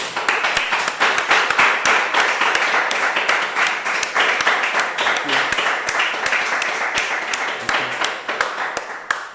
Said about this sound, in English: Hear the applause there.